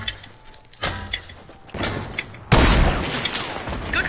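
A grenade explodes in a combat video game amid gunfire: sharp shots and bursts, then a loud blast about two and a half seconds in whose rumble and debris trail off.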